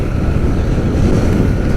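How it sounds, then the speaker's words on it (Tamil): Strong wind blows across a bridge, buffeting the microphone with a loud, steady, dense rumble and hiss for the whole moment. No one speaks. "ஜில்லுன்னு இருக்குது, காற்று அடிக்கிற காற்று இங்கே."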